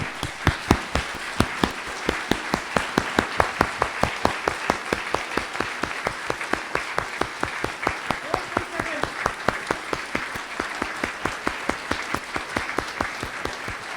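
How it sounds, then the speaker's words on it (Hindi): An audience claps hard together at a motivational award ceremony, a dense, steady burst of many hands lasting throughout, loud and close with no talk over it. "एक बार ताली ऐसे बजाओ पूरी ताकत से।"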